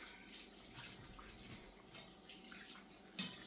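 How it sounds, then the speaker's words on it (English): Hot water running from a tap onto raw chicken in a home kitchen, a steady soft splashing stream for a few seconds with a brief clatter near the end. "Right now, I'm gonna put some hot water on it."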